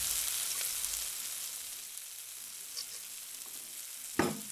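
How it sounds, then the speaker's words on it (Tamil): Chicken pieces frying in a korma masala, a soft continuous sizzle with a louder stir or scrape near the end, no voices. "வெட்டி வச்சிருக்கிற சிக்கன் துண்டுங்களை சேர்த்துக்கோங்க"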